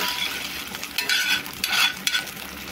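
Potatoes frying in mustard oil with black cumin, mustard seeds and green chilli in a pan, a steady close sizzle with scraping stirs breaking through in short bursts.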